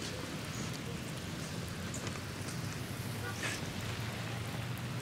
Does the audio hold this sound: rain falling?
yes